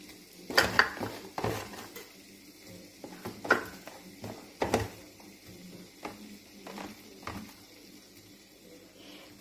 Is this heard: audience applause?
no